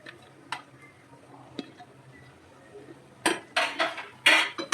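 Carrot, cabbage and capsicum get stirred in a pan for Manchurian, heard as a few sharp spoon-on-pan clatters and scrapes near the end after quiet ticking.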